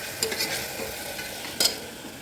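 Spices frying in a pan for biryani, stirred with a utensil, giving a quiet steady sizzle with a couple of brief scraping stir strokes near the start and again toward the end.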